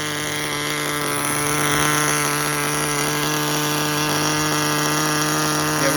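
A Tamiya TGS-R nitro RC car engine runs steadily at a high, buzzing pitch with a slightly knocking, uneven tone, loud and continuous throughout with no talking.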